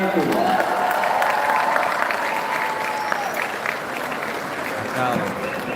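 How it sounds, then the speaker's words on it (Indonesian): A crowd at a political volunteers' gathering applauds steadily and loudly, with cheering voices mixed into the clapping throughout. "Tepuk tangan untuk semua yang hadir di sini."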